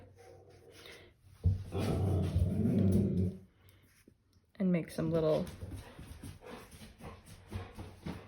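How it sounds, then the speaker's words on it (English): A dog barks and growls outside in two short bursts, muffled and somewhat distant, while a person talks indoors over and between the barks. "A dog just barked outside"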